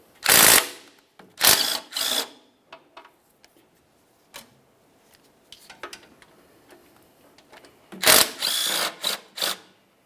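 A ratchet drives oil pan bolts on a 1994-2002 Dodge Ram 2500, giving sharp bursts of fast clicking, close and loud, separated by quieter pauses with light tool handling between them.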